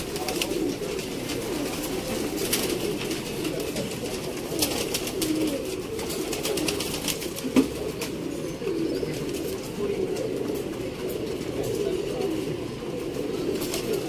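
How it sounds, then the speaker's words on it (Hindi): Pigeons coo continuously in a soft, overlapping murmur, with faint rustling and outdoor background noise and no speech, at a pigeon keeper's loft in Sialkot, Pakistan. "बहुत ही एंटीक क्वालिटी के बहुत नियाब कबूतर मियाँ नज़ीर ब्लड लाइन"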